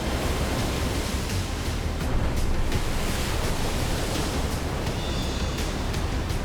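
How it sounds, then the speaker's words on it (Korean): High ocean waves at the windswept southern tip of Chile roar continuously under strong wind, a dense, loud wash of surf and gusting noise with no breaks. "높은 파도를 일으키는 강풍을 막을 것이 전혀 없죠"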